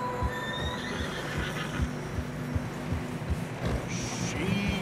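Horse neighing in Red Dead Redemption 2 on a snowy trail, a whinny over steady rhythmic clip-clop of hooves, fairly close, with a voice briefly speaking in the background.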